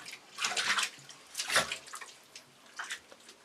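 Water splashing as a pony is bathed, uneven close sloshing and pouring bursts with short quiet gaps between them.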